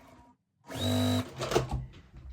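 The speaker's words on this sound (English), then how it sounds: "I'm going to go ahead and sew this together." A sewing machine stitches a quilt block in one sustained, steady whir lasting about half a second, followed by soft handling clatter and fabric rustle nearby.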